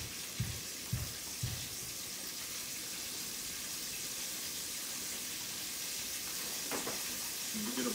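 Floured chicken steak frying in a pan of hot oil, a steady broad sizzle throughout with a few brief thumps and clatters near the start, close and continuous.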